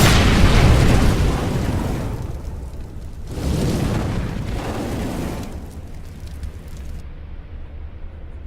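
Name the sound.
Molotov incendiary thrown and burning in a Counter-Strike video game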